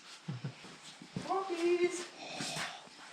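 Close, soft whimpers and high yips from puppies in a farm garage, a few short whines rising and falling, with human voice mixed in.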